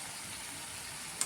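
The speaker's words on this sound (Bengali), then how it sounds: "লবণ দেওয়ার পর মশলাটাকে ভালো করে কষাবো।" Spice masala with salt frying in a pan for a chicken kosha curry, a steady close sizzle with no talk and a brief scrape near the end.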